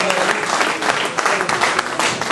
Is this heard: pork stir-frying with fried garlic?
no